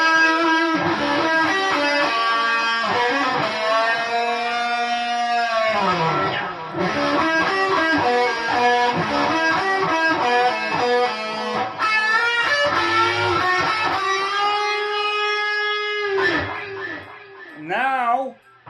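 Electric guitar playing a solo, a steady run of melodic lines with string bends and slides, loud and close, ending with a final bent note that trails off.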